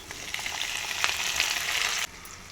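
Tomatoes frying in a pan with onions, garlic and curry leaves, giving a steady close sizzle with a few scattered crackles that cut off abruptly near the end.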